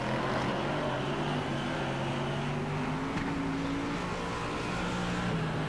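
Stockcars roar around the track in an Auckland teams championship race, engines droning steadily and loudly as several cars circulate together with rising and falling pitch, continuous throughout.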